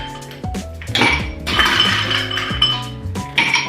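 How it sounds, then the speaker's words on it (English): Ice cubes clink and rattle into a cocktail glass while a Greyhound vodka cocktail is being made, a close run of bright glassy knocks and tumbling clatters, with no talking. "Then you'll fill the glass with ice."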